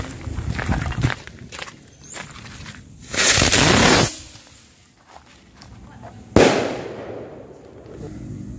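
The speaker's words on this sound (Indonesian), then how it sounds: "selanjutnya kita nyalakan mercon Bima Sakti." A Bima Sakti mercon firecracker lit during the Ramadan fasting month. Footsteps and shuffling come first, then a roaring, hissing burst lasting about a second, a quiet gap, and a sharp loud bang that fades away slowly.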